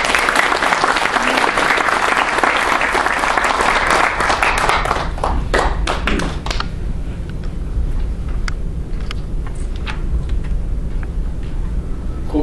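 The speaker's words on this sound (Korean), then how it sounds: "여러분 뜨거운 박수로 부탁드립니다." Warm applause at an academic conference of a Korean national intelligence society, welcoming the chair of the National Assembly intelligence committee; loud dense clapping for about five seconds, then thinning into scattered claps and fading.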